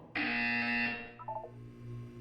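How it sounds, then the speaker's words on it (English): A single harsh electronic buzzer in the video game Portal 2 sounds for about a second, loud and steady, followed by a few faint beeping tones. "You will hear a buzzer."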